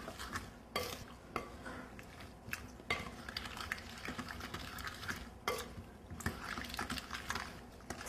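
A spoon stirs sugar into cherry pie filling in a bowl, steady scraping and wet clinks with sharp knocks against the side, close and continuous without talk.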